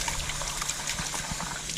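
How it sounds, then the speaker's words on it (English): Tap water trickling and pouring into a pot of rice at a kitchen sink, a steady, close splashing stream with no talk over it. "I bring this over to the sink. I'm gonna put some water in there."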